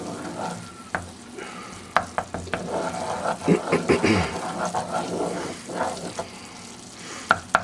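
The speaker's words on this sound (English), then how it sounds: "Let that get all mixed in with the butter. Get it all nice and cooked in." A wooden spoon stirs a mixture with butter in a saucepan for a loaded baked potato dish, producing soft sizzling and a run of scraping, tapping strokes at close range, with no talk.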